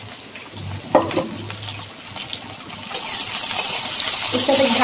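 Fish heads that were fried earlier go into a pan and fry for a Bengali pumpkin and pui shak chorchori. A steady sizzling hiss builds toward the end, with a few clatters near the start.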